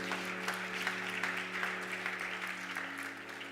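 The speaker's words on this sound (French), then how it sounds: "Quelqu'un acclame Jésus pour la parole" A church congregation applauds, a steady, dense patter of many hands clapping continuously at moderate distance over a low sustained hum.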